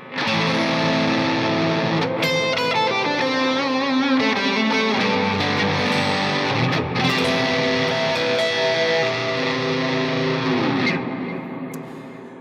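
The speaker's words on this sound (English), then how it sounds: "So just with the atomic overdrive and my bass sound," Bass guitar through an Atomic overdrive pedal with mids carved and treble lowered gives a thick, gritty, distorted drone. Loud and continuous with shifting notes, it fades slightly at the end and plays alone with no voices.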